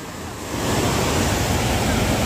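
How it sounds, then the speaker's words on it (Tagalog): Ocean surf rushes and swells as a broad, loud wash of breaking waves that builds after a brief moment and stays dense, with wind on the microphone and faint voices underneath. "Tatanungin kung kaya ang alon o hindi."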